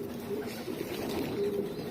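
Young pigeons kept by a pigeon fancier at feeding time, giving soft, continuous low cooing and murmuring close by, with a faint brief voice in the background.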